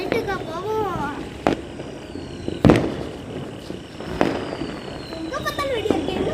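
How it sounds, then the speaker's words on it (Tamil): Diwali firecrackers burst across Chidambaram city: three loud, sharp bangs spaced a second or more apart, with whistling rockets rising between them and voices talking underneath. "எங்க பார்த்தாலும் சிதம்பரத்தில் தான் சிட்டியில் தான் நிறைய வெடி வெடிச்சிட்டு இருக்காங்க."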